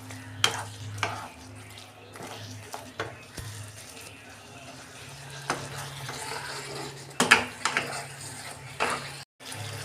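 Soybean curry cooking in oil with a little garam masala, heard as an irregular run of spoon-on-pan stirring clatters and scrapes over a low sizzle, with occasional quiet voice sounds in the background.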